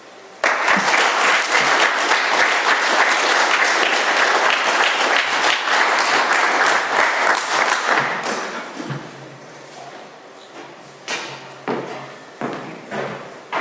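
An AA meeting audience in Doylestown, PA bursts into loud, dense applause that lasts several seconds, then thins into scattered individual claps.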